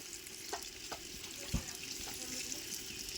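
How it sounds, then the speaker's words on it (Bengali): A little masala-rinse water pours into poultry meat cooking in a clay pot. It gives a steady, close watery splash and sizzle with a few soft clinks. "এবারে মশলা ধোয়া একটুখানি জল এই মাংসের মধ্যে দিয়ে দেবো"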